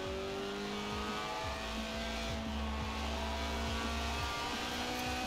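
A race car in Forza Horizon drives with a steady engine drone and repeated rev swells as gears shift up and down, loud and continuous with no talking.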